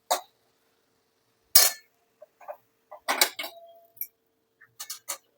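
A cooked vegetable is scooped out of a kadhai into a bowl, with a few sharp scraping and clinking clicks spaced irregularly among quiet pauses.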